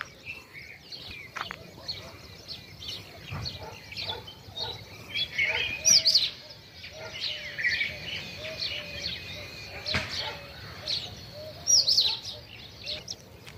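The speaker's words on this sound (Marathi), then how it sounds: "इथून मागं मी बगळे दाखवत होते आणि हे सर्व कावळे आहे" Crows and other birds calling in an overlapping outdoor chorus, with harsh caws and chirps scattered throughout at moderate distance and no talking.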